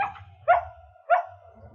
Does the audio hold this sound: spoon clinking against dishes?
no